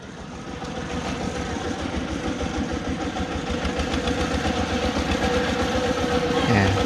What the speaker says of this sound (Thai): รถไถรถไถ